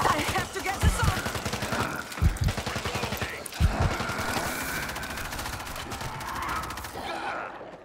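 Rapid gunfire rattles through a World War Z zombie shootout, with several dense bursts of automatic shots near the start and middle, then a steady, loud din of combat that carries on beneath scattered voices.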